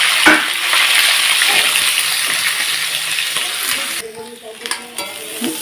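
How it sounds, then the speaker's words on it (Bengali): Salted potatoes sliding into hot oil in a kadai, bursting into a loud, dense sizzle that gradually settles, followed by a few clattering stirs near the end. "এবার আমি আলুটাকে কড়াইতে তেলে ছেড়ে দিলাম"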